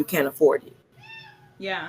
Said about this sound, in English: Sorry, my cat is here. I don't know if you hear the meowing.